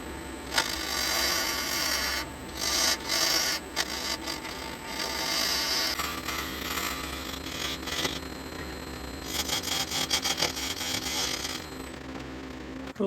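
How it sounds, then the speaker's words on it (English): A wood lathe spins a laminated board blank while a tool roughs it round, producing a sustained scraping, rasping whir with rhythmic pulses as the cutter bites the edges, close up. "I'm going to rough this out and make it round, make a tenon out of it"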